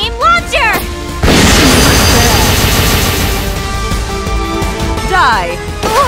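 A multiple beam launcher attack in the Neptunia: ReVerse video game: a sudden loud blast erupts into a dense, sustained barrage of crashing explosions, with character voices shouting before and after.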